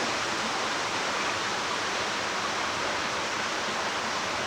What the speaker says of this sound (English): This is the start of the Maakua series of waterfalls.